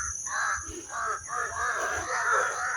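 Crows caw in a survival video game, several harsh calls in quick succession, fairly close and clear over a quiet background.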